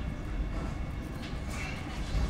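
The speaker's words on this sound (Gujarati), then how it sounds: "ઉપડી ગઈ છે આપણી વંદે ભારત એક્સપ્રેસ મુંબઈ તરફ" A Vande Bharat Express chair car moving out of Ahmedabad toward Mumbai, heard from inside as a steady low rumble and hum of the train in motion, with no talking.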